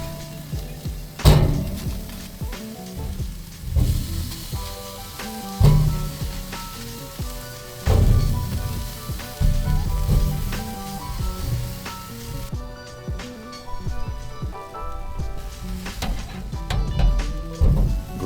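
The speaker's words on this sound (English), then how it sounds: "Throw your watermelon straight over the heat. You're chasing grill marks, you're not trying to cook it through." Watermelon slices sizzle on hot grill grates over direct heat, a steady crackling fry with scattered clicks and knocks of tongs or the grill lid, no talking.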